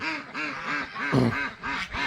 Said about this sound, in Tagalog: Peking duck yung may ingay. Peking duck saka yung gansa.